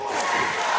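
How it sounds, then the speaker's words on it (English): A wrestling crowd at a Louisiana Wrestling Alliance match cheers on Steve Anthony, a short, loud burst of massed shouting and roaring with no voice standing out. "the crowd behind Steve Anthony encouraging him to get back up to his feet"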